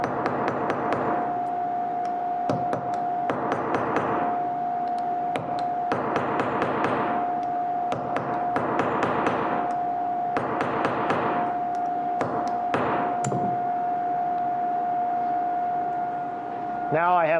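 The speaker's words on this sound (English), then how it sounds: "Now I have the blades riveted in" Sharp hammer blows rivet the pins of pocketknife blades at a cutlery factory, coming in bursts of quick ringing taps separated by short pauses, close and loud over a steady machine hum.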